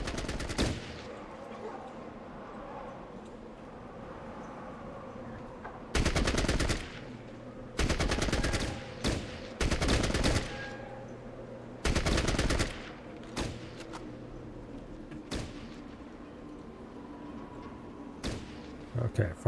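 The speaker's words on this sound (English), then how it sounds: "Brian, switch to burst fire and light up that guy in front." Burst-fire gunfire in the Fallout Tactics video game: several loud, clipped bursts of rapid shots in irregular groups, separated by stretches of quieter ambient game noise.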